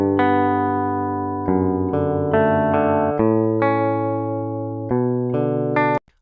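Dry, unamplified guitar from a Kontakt sample library plays a short phrase of plucked notes and sustained chords, clean and close, ending abruptly, with no voices.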